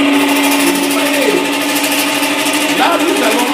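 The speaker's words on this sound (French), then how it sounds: "Maintenant nous allons allumer notre moteur." A small engine buzzes loudly and steadily at close range, its whine dipping and rising in pitch a couple of times as it runs.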